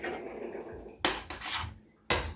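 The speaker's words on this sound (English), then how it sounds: "Stir it up." Corn boiling in a cooking pot is stirred, giving a few scraping, clanking strokes of a utensil against the pot between quieter stretches of bubbling background noise.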